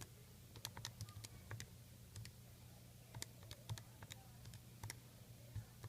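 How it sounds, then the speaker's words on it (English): Rapid key clicks tapping numbers into a calculator, coming in short irregular bursts with brief pauses, fairly close against a steady low hum. "Type that into our calculator."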